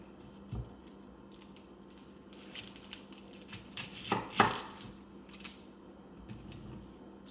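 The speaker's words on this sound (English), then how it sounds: "So these are just getting cut up so that they can blend easier." A sharp knife cuts tomatillos on a board, giving a few soft isolated taps and then a cluster of crisp chops near the middle, quiet and close with no talking.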